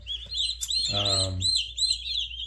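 Young meat-bird chicks chirp in short, high, repeated peeps, close and fairly clear, with a brief lower call in the middle.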